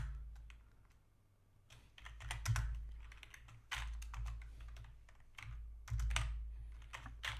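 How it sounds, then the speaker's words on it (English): Rapid, uneven bursts of computer keyboard typing during a gaming session, with clustered key clicks and short pauses over a low, steady hum close to the microphone. "let me type it down"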